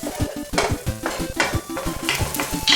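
Onions frying in a pan while being stirred, a steady sizzle broken by rapid, rhythmic scraping strokes of a utensil against the pan, close and fairly loud with no talking.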